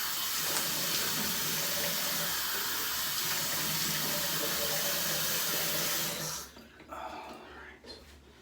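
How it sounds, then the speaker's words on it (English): Tap water runs steadily into a bathroom sink while someone rinses soap from their face after shaving, a constant close splash that cuts off near the end, leaving faint drips and handling sounds. "let me go ahead and rinse some water on my face, rinse off the excess soap"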